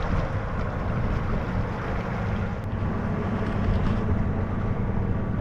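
Steady low engine drone from a sailboat motoring under sail off Sardinia, with wind rushing and water washing along the hull, continuous and fairly loud throughout.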